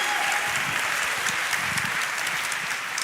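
A political event audience applauds for a guest speaker, with steady, dense clapping throughout, fairly close and sustained with no talking over it.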